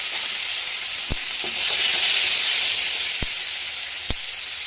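Onion, tomatoes and green chillies sautéing in a pan for a tamarind brinjal and drumstick curry, a loud continuous sizzle with a few sharp clicks of a spoon against the pan.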